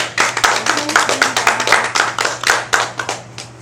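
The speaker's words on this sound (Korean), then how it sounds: "오랜만에 오셨으니까 박수 한번 쳐주세요." An audience at a Buddhist doctrine lecture claps their hands in a brisk, even run of about a dozen close, loud claps that taper off after three seconds.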